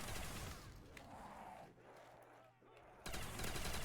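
An upgraded gun fires in a Harry Potter-themed zombies game, loud rapid shots over a busy mix of crowd-like noise. The fire eases off briefly, then returns strongly near the end.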